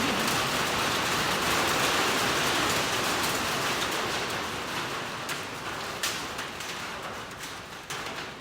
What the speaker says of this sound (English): I hope the rain doesn't upset us. Horribly loud at the moment.